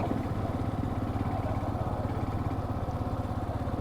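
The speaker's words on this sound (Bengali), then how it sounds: "যদিও বাইকে অতিরিক্ত প্রেশার পড়ছে বাট যেতেই হবে বাইকে যেভাবে হোক" Motorcycle engine on the sand beach at Cox's Bazar, running steadily and loud and close, with a continuous low throbbing drone throughout and no clear voices.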